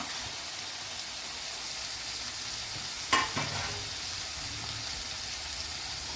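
Small-cut bitter gourd pieces and green chillies fry in a pan, making a faint, even sizzle with one sharp stirring scrape near the middle, and no talking.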